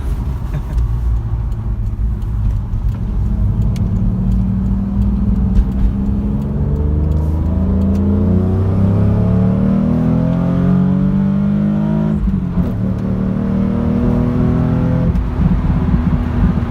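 Naturally aspirated Toyota Supra engine revving up loud and close, rising and falling pitch in long sustained pulls over a steady road rumble, with a brief dip near the middle before climbing again.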